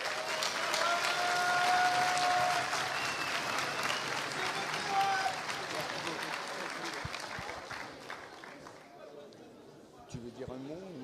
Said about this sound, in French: merci de m'applaudir